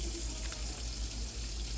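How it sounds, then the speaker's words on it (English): Water runs steadily from a tap into a sink, a continuous close-up splashing rush as hands are rinsed. "I need to rinse my hands off."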